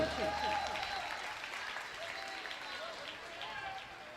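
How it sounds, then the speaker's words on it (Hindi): A crowd claps steadily at a community religious ceremony in Lalghati, Bhopal, the applause dense and even with faint voices murmuring underneath. "ताली बजा जोर से।"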